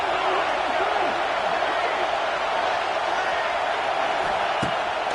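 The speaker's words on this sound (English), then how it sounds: "This crowd bringing the energy and noise early." Steady roar of a large stadium crowd in a college football video game, dense and continuous, with faint whoops and a brief sharp thud near the end.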